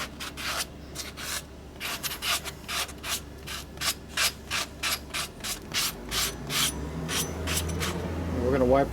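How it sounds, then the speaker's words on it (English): Sanding block rubbed by hand over a part during a 1988 Harley-Davidson FXR repair, a quick series of rhythmic scraping strokes, close and crisp, with a faint low hum behind them. "you hit it with a sanding block a little bit"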